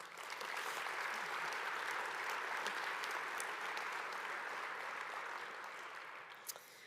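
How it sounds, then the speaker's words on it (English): Guests at a special awards luncheon give a round of applause, an even wash of many hands clapping throughout that eases slightly toward the end, heard from a moderate distance. "Please join me in giving him a round of applause."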